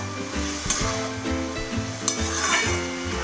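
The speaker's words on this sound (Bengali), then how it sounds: "লাউটাকে লবণ দিয়ে খুব ভালো করে নাড়াচাড়া করে" Bottle gourd is stirred with salt in a pan while cooking lau chingri with little oil; a steady soft sizzle runs throughout, marked by a few sharp clanks of the utensil against the pan.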